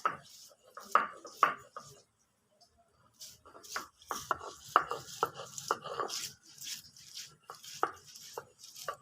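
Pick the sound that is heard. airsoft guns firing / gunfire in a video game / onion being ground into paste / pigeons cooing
onion being ground into paste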